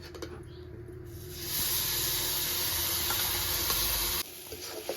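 Bay leaf, cinnamon, cardamom and cumin hitting hot oil: a sudden loud, sustained hiss and sizzle rising after a quiet start, holding steady for a few seconds, then cutting down abruptly to a softer crackle.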